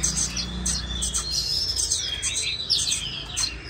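A captive oriental magpie-robin sings in a lively, varied run of whistled notes and chirps, close and fairly loud, continuous throughout.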